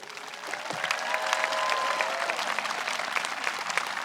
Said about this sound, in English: Let's start with a huge round of applause for our 8th grade.